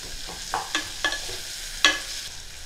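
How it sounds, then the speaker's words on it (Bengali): Chopped onion fries in a pan for a mutton stew, with a soft sizzle underneath and about five distinct scraping taps of a spoon stirring it. "পেঁয়াজটা ভাজা হচ্ছে, পেঁয়াজের কালার চেঞ্জ হয়ে যাচ্ছে"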